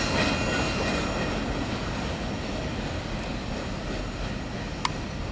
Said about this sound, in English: there's a train coming southbound